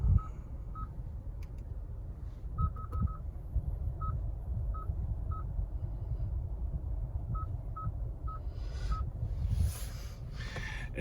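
Short keypad beeps as a phone number is entered, single tones and quick bursts of several presses spread irregularly over a steady background hum, no talking.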